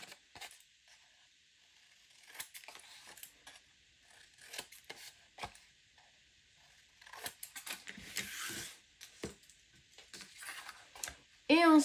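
Scissors snip through scrapbooking paper in a series of short, sharp cuts, with light rustling and handling of the paper between snips, close and fairly quiet.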